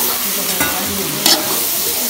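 Chicken devilled frying in a pan as it is stirred, a steady close sizzle with a couple of brief scraping strokes of the utensil, no talking.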